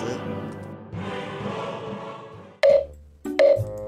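Touch-tone telephone dialing during a late-night live phone call: a few short electronic beeps sound in quick succession after a stretch of background sound with faint voices underneath.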